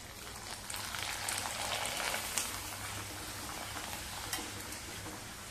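A second rice-flour papad sizzles in hot oil in a kadhai, a dense, continuous crackle with occasional louder pops, close-up and alone without any voices.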